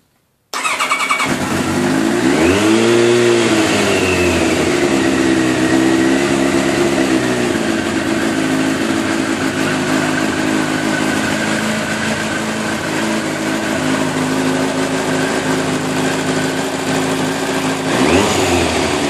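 A small engine is started at half choke while someone checks for water in the oil. It catches, revs up and down, then settles into a loud, steady, buzzing run, with a brief rev near the end.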